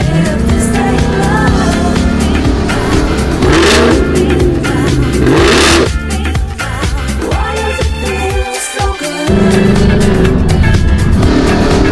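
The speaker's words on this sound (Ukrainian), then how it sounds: "Рівно він працює конкретно як на спортивному розпредвалі" A loud Ford Mustang GT 5.0 Coyote V8 with a sports camshaft idles with a lumpy, uneven lope, blipping and revving at close range.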